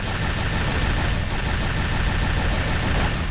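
Weapons fire in a multiplayer deathmatch video game, a dense continuous rattle of rapid shots held loud and unbroken throughout, with no speech.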